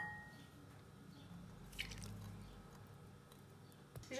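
Melted butter poured into flour and sugar in a Thermomix bowl, a soft, quiet wet slosh that swells briefly in the middle of a low background hum.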